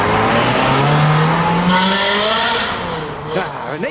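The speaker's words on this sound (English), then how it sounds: "An 8-cylinder choir reverbing off the tree line." A Ferrari 360 with a V8 engine revs hard as it passes on a tree-lined road, its loud howl climbing in pitch up close before fading away.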